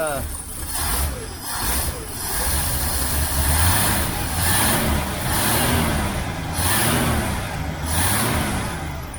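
A 1972 Chevy Nova engine runs just after starting, a loud, steady, rumbling idle close by with slight swells in revs, while someone talks over it.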